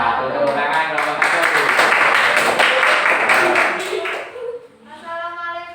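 A group of people, likely students in a classroom, clap their hands together in a lively, rhythmic burst that is close and loud, then give way to voices talking.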